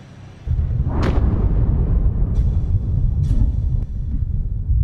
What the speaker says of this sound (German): Eröffnet werden die Kämpfe durch das gegenseitige Feuer der Kanonen.